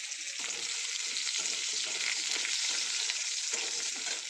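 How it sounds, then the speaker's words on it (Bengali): Chopped potato, carrot, pumpkin, chilli and tomato sizzle loudly in a pan while being stirred, a constant bright hiss broken by soft scraping pulses from the stirring, with no speech. "এবার এটাকে নাড়াচাড়া করি"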